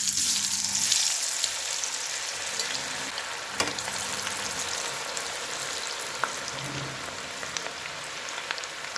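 Marinated cauliflower deep-fries in hot oil over a high flame, giving a dense, steady sizzling hiss with small pops and a single sharp knock partway through.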